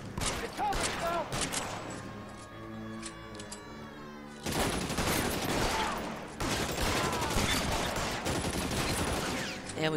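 Repeated gunfire rings out in the detective video game L.A. Noire, with two loud bursts of shots separated by ringing, sustained echoes and a muffled lull during a shootout.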